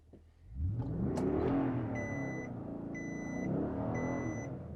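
A bogged 4x4 in sand mode on a beach pulls out of the sand in first gear, its engine rising to a strained, steady roar, while an electronic warning chime beeps repeatedly over it.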